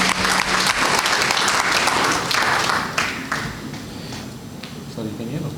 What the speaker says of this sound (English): Just a round of applause for him.